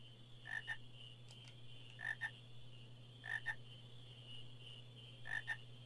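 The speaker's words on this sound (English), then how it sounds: "Aha! Frogs!" Frogs croak in the Fossil Roo area of Final Fantasy IX, paired chirping croaks repeating about every 1.5 seconds over a steady low hum, quiet and regular.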